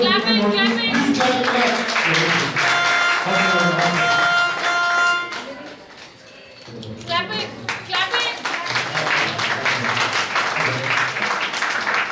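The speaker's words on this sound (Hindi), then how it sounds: "ताली बजाएं मेहरबानी से।" Audience applause at a church wedding, bursts of clapping mixed with voices and children's chatter, a brief lull midway, then renewed clapping and talk close by.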